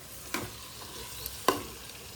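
Chopped boiled potatoes frying in oil in a home kitchen, a faint low sizzle with two distinct scraping stirs of a spoon against the pan, quiet and close.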